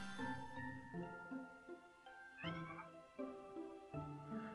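Cat meowing in the Kingdom Hearts Dream Drop Distance video game, a series of clear, tonal meows repeating at a steady pace with short pauses, close and prominent with no talk over them.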